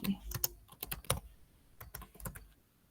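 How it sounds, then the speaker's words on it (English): Slow, deliberate keystrokes tap on a computer keyboard at close range, a scattered series of light clicks with small pauses, fading toward the end. "Let me type slowly."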